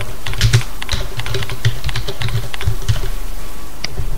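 Rapid, uneven keystrokes clatter on a computer keyboard, close and crisp, a continuous run of typing with no voices.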